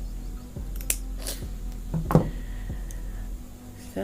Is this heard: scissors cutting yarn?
yes